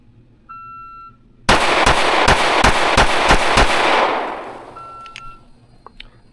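Fusion Firearms XF Pro pistol fired rapidly during a shooting drill, about seven sharp close shots in quick succession, followed by fading echo and quiet afterward.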